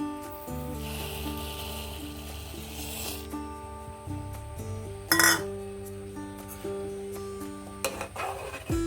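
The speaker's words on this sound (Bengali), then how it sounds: "ভালো করে নেড়ে দিলাম যাতে তলায় না লেগে যায়" A spoon scrapes and clinks against a metal pot while rice and lentils are stirred, with scattered knocks and one sharper clank over a steady low hum and background music.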